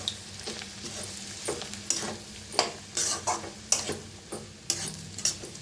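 A utensil stirs pieces of bhakri into roasted chili masala in a hot pan, with repeated rhythmic scraping strokes over a soft sizzle, close and fairly quiet.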